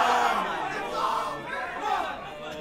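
Crowd at a Super Smash Bros. Melee tournament cheering and yelling for player Bali, a dense roar of many voices that swells and dips over a few seconds.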